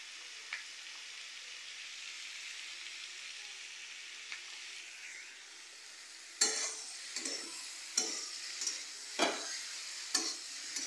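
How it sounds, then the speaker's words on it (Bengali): Chilies frying in oil while elephant foot yam is cooked: a soft, steady sizzle at first, then a run of rhythmic scraping stirs with sharp crackles, each stroke close and distinct. "এখন ঝালগুলোও ভেজে নেবো এর ভিতর দিয়ে।"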